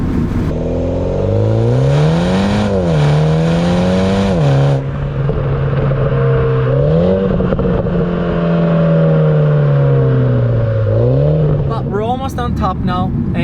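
A 2020 Mini Cooper John Cooper Works convertible climbs a mountain pass, its engine droning loud and close with repeated rising and falling revs through gear changes, and a brief sharp burst of higher noise at the end.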